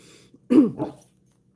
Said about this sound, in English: Confirmation from my dog.